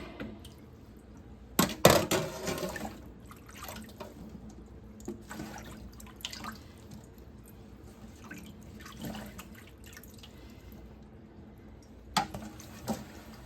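Water drains off blanched green beans, with a steady soft trickle and scattered drips, a louder splash near the start and another near the end, heard close in a quiet kitchen with no talk.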